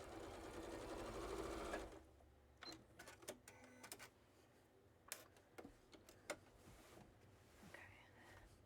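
Sewing machine zigzag-stitching a quilt inside a converted school bus: a dense two-second burst of rapid stitching, then scattered light clicks and taps from the machine and fabric handling, all close up.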